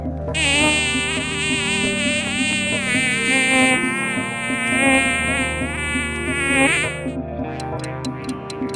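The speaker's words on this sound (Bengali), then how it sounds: "এই আওয়াজটি হচ্ছে মশার" A mosquito's high, whining buzz hums steadily and close for about seven seconds, wavering in pitch as it drifts, then cuts off abruptly, leaving a few faint ticks.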